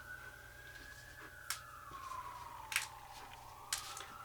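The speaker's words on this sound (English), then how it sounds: "if you can hear the ambulance and sirens" An ambulance siren wails outside during a winter storm in the city, a faint, distant tone slowly sliding in pitch, with a few sharp nearby clicks over a low hum.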